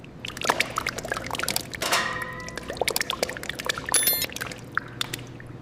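Epoxy resin mixed with metallic mica pours steadily during a mansion restoration, a close wet stream with dribbles, soft splashes and a few light clinks of a container.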